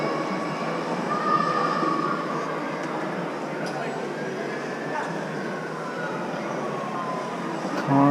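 Inside a train riding through Glasgow, a continuous rumbling roar of wheels on track with faint squealing tones and a swelling surge near the end; muffled background voices blend into the noise.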